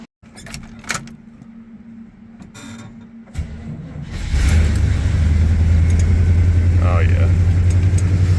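A Chevy K30 squarebody crew cab truck with a bad alternator cranks with a whirring starter, then the engine catches and settles into a loud, steady idle close by, with a brief exclamation from a person.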